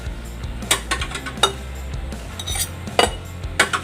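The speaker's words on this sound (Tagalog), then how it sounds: "And then, mix together or mix all to combine." A utensil mixing a vegetable omelette egg mixture with grated cheese in a bowl, giving repeated clinking taps against the dish in an uneven stirring rhythm, close and moderately loud with no talking.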